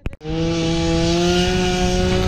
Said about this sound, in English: But sorry about the chainsaw noise.